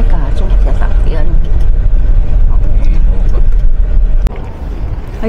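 A road vehicle passes close by at a hillside lookout near a tall hanging bridge, a loud steady rumble that fills the whole moment and drops slightly near the end, with voices faintly beneath it.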